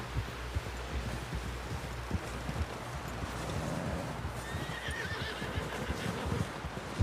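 In the video game Red Dead Redemption 2, a horse clip-clops with soft, steady hoofbeats and gives a neigh partway through, heard at moderate distance and fairly faint over a rustling outdoor ambience.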